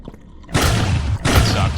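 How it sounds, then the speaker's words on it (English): A loud gunshot fires in a first-person game, a sharp boom with a ringing tail followed by a second heavy blast a moment later, with no talk. "It's almost as if the gunshot is not respecting the audio setting at all."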